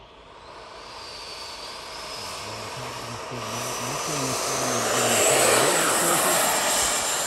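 Xfly-Model T-7A Red Hawk 80mm RC electric ducted-fan jet spooling up and taking off, a steady high whine that swells louder toward the end, with faint talk underneath.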